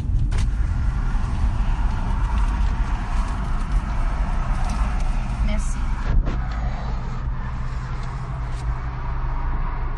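Steady low road rumble of a car being driven, with continuous engine and tire noise inside the cabin, a few faint clicks and knocks over the drone, and speech likely present.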